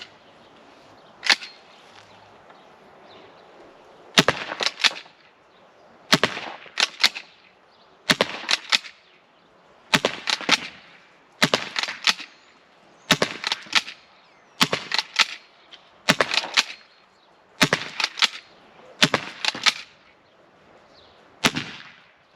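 An Umarex T4E .68 caliber air pistol firing heavier RBI rubber balls, about a dozen loud, sharp, close pops spaced roughly every one to two seconds, each followed by a brief clatter with near silence between shots.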